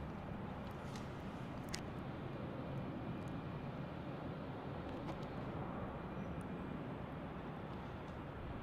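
A JetBlue Airbus A320 taxis at Salt Lake City airport, a steady low jet-engine rumble heard from a distance, continuous and fairly quiet, with faint clicks and no speech.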